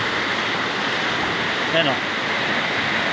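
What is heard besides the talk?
Kipot Falls waterfall, Montalban, Rizal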